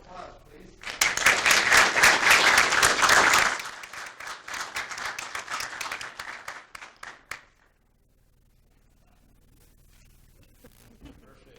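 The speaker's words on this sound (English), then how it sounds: "Give him a round of applause, please." Applause at a municipal commission business meeting starts loud and dense, thins into scattered individual claps, then stops, leaving a quiet room.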